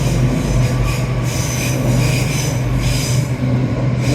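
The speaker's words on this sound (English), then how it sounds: "There we are. Great Western from Paddington." A Great Western Railway Class 800 passenger train from Paddington rumbles past close by near Dawlish, loud and continuous, with steady wheel and rail noise and a faint squeal.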